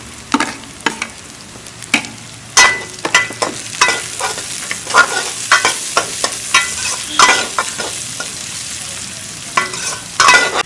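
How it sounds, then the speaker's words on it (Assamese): Chopped capsicum frying with onions in a pan, with steady sizzling and repeated sharp scraping strokes of a spatula stirring throughout, close and fairly loud. "পিঁয়াজখিনি অলপ ভাজা যোৱাৰ পিছত সৰু চাইজত কাটি থোৱা কেপচিকামখিনি দি দিছোঁ।"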